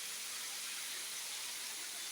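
A hidden waterfall near Erdemli, Mersin, pours over rocks as a steady, faint broadband hiss, continuous and even with no talking.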